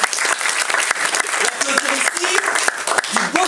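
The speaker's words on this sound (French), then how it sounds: "Applaudir" Theatre audience applauding during a staged performance of Molière's Sganarelle, dense steady clapping throughout with voices and cheers mixed in.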